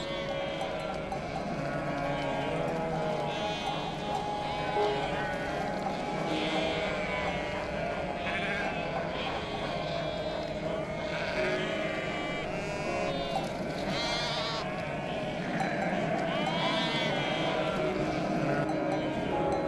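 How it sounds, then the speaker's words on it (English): A flock of domestic sheep bleats on a pasture in Turkey. Many overlapping wavering calls go on without a break, with faint clanking bells mixed in across a busy outdoor bed of sound. "The Middle East was one of the first places sheep were domesticated."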